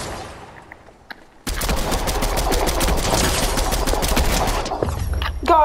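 Reaper rifle gunfire in a video game, a sudden loud, dense burst of rapid shots lasting several seconds before cutting off.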